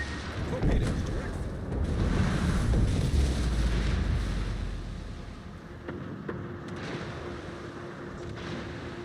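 Heavy explosions from torpedoes hitting head-on in a Starfield space battle, with deep rumbling booms swelling loudly and then fading into a lower steady roar and faint tones.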